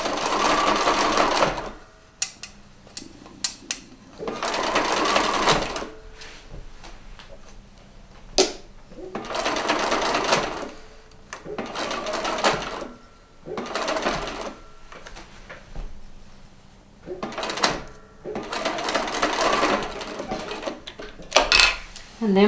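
Sewing machine stitching a quarter-inch seam on bias binding, running in several bursts of rapid whirring separated by short pauses and small clicks, close and clear.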